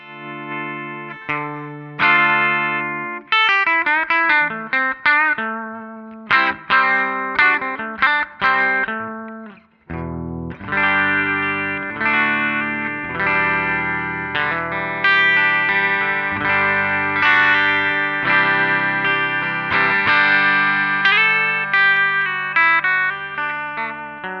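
Electric guitar played through a Line 6 Helix Jazz Rivet 120 amp model, bright and clean with chorus-like shimmer, picking out quick chords and runs, then ringing sustained chords in the second half, alone without talk.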